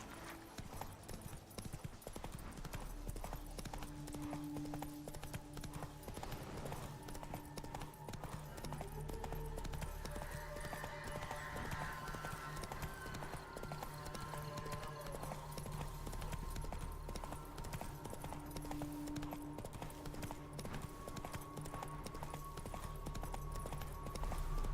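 Steady galloping hoofbeats of the horse Roach in The Witcher 3, a continuous rhythmic clatter running throughout beneath dense game music and ambience, with faint talk now and then.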